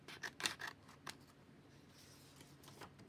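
Scissors trimming paper in a planner journal, a few quiet, close snips clustered at the start and then faint rustling.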